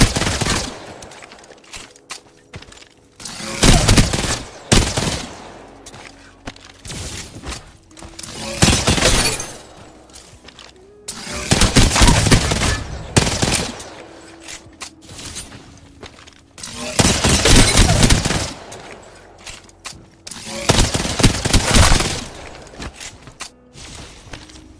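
Bursts of hip-fired gunfire in Apex Legends, loud rapid volleys repeating every few seconds with brief quieter gaps and faint game sounds between them.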